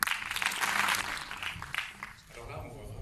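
Audience applause at the closing of the Fribourg International Film Festival, a dense spread of clapping that swells early, dips briefly, then carries on steadily, with crowd murmur mixed in.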